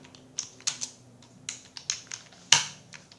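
About eight to ten separate keystrokes tap on a computer keyboard at an uneven pace, close and crisp against a quiet background, with one louder press near the end.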